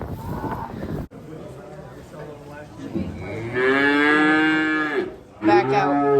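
Cattle at a livestock auction, including beef cows, letting out a long, loud, close moo followed by the start of another, with a brief burst of nearby voices at the outset.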